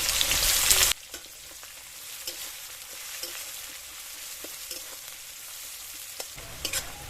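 Chopped onions hit hot mustard oil with cumin and bay leaf for chicken curry, giving a loud opening hiss that settles into a quieter, steady sizzle with occasional stirring taps, close up.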